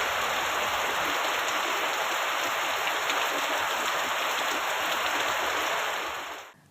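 Heavy rain pours steadily over a flooded residential neighbourhood in Tirunelveli district, a dense, continuous hiss that stays loud and even throughout before cutting off at the very end.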